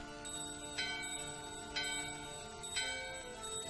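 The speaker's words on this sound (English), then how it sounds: "Ring the bell." A bell rings in the video game Final Fantasy IX, three clear metallic strikes about a second apart, each ringing out with a long sustained tone over a soft musical background.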